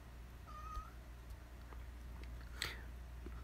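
A house cat meows once, a short faint call against a steady low hum and background noise, with a brief scratchy rustle later.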